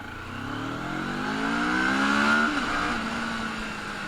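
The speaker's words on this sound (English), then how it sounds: "let me show you the exhaust note by revving it out" A CF Moto 650NK 650cc twin-cylinder motorcycle revs up alone, its exhaust note climbing to a peak and then dropping back to idle, clear and fairly close with no talk.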